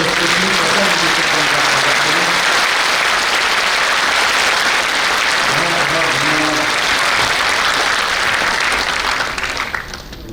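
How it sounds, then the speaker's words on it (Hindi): Thunderous applause rolls through an indoor hall at a corporate anniversary celebration, a loud continuous roar of many clapping hands that holds steady under a voice speaking, then thins and drops away at the very end. "तालियों की गड़गड़ाहट से आपने किया।"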